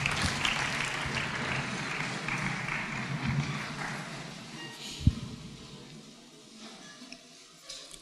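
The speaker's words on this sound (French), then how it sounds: "Acclamons la parole." A church congregation applauding, a sustained, moderately loud clapping that tapers off over several seconds into quieter room sound.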